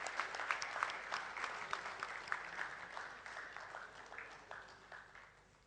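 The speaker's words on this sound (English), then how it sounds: "Let's give them a big round of applause for helping us out with this entire event." Applause from an audience at a corporate event: scattered claps start fairly strong, then thin out and fade over several seconds.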